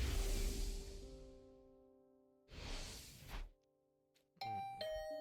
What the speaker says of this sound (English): Ding dong. Was that my doorbell?